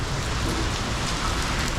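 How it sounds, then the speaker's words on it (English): Heavy rain pours down steadily in a dense, unbroken hiss, close and loud, with no voices over it. "today we know only one thing, that it's raining, pouring down"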